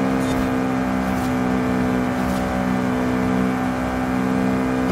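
A car engine holding full throttle through smooth jungle bends in Forza Horizon 5, a steady loud drone with little change in pitch, mixed with game sound.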